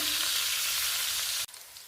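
Stuffed bitter gourds (karela) sizzle steadily in hot oil over a medium flame, a close, loud hiss that cuts off abruptly near the end.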